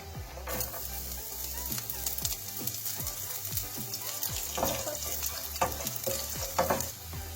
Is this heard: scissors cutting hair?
no